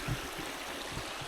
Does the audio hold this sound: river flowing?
yes